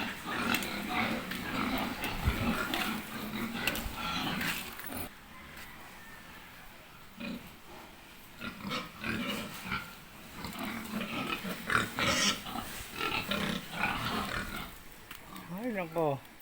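Pigs grunting and snorting at close range, with scattered low grunts and rustling, under frequent human talk.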